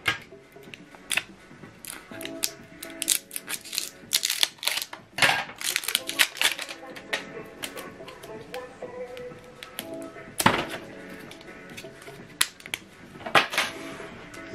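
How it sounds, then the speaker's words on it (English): Plastic clicks and taps as ink cartridges are handled and pushed into place in a Canon PIXMA TS9150 printer, a string of small close clicks scattered irregularly, with one sharper snap near the end. "Okay, you hear a click sound and it's ready."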